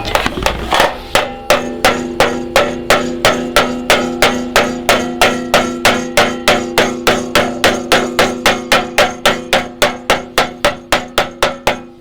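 A hammer strikes metal over and over to form a forged whale weather vane, evenly paced ringing blows, loud and close, about three per second.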